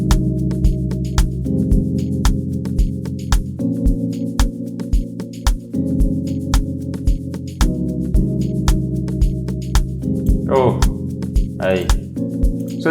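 Layered synth chords built in FL Studio, with the chord doubled an octave up, sustain in long stacked blocks that change every second or two over a steady rhythmic click-like beat, loud and alone without talk.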